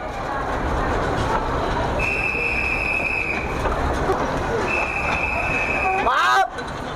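A train sits at Da Lat railway station on a sunny day, with a steady rumbling hiss, two long high-pitched tones and a short squeal of wheels or brakes near the end, under a noisy station background.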